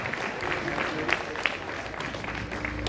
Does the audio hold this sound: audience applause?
yes